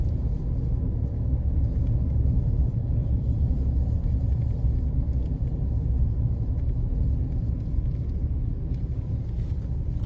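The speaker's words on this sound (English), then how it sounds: "I will try my best to drive not too fast" A car drives steadily along a road in the Golden Triangle area of St. Andrew, Jamaica, with a continuous low engine and tyre rumble heard from inside the vehicle and no talking.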